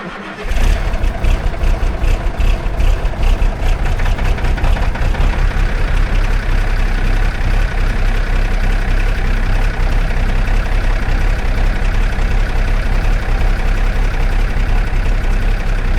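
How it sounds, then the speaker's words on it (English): A Freightliner truck's Cummins diesel engine cold-starts on a cold morning, cranking briefly then catching into a loud, steady, rumbling idle that runs unbroken and close by, with no talk over it. "Gotta love a Cummins and a nice cold morning and the smoke it lets out"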